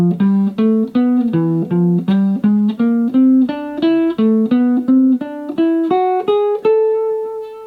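Jazz guitar runs melodic minor lines over a minor ii-V-I, moving from E altered (F melodic minor) to A melodic minor. Clean, evenly picked single notes ring out in a steady rhythm, close and alone, ending on a sustained note.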